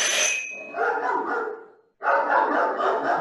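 Dog barking close and loud in a series of sharp barks with a short pause before another burst, within an old-time radio drama scene.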